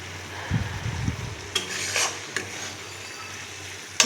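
Bitter gourd and potato are stir-fried in a pan, with a few scraping strokes of a spatula and light clinks over a faint, steady sizzle.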